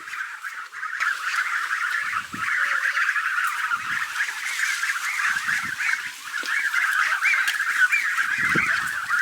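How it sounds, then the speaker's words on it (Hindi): Geese or ducks honk in a dense, continuous chorus at a rural Chinese farmhouse, loud and near, with occasional thumps and rustles below and no talking. "और ये डक्स है कि गीज है मुझे पता नहीं, दोनों एक ही जैसी लगती है मुझे"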